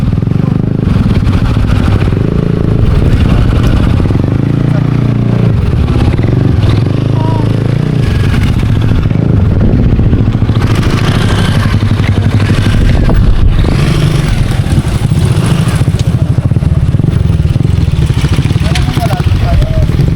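A motorcycle engine rumbles and revs nearby during a road ride from Pagudpud to Aparri, with clattering and scraping, while people talk loudly over it.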